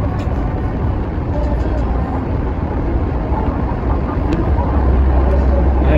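A car cruising on a road toward Napa, with steady loud road and engine rumble filling the whole stretch, continuous and close, with no talking heard over it.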